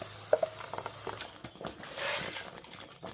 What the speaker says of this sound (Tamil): இப்போ அரைச்ச வெங்காயம், தக்காளி, தேங்காய் அதை ஊற்றுறோம்.